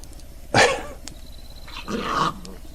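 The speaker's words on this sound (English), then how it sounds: "The dogs are fighting." Dogs fighting give two short bursts of snarling growls and barks, loud and close, separated by a brief quieter gap.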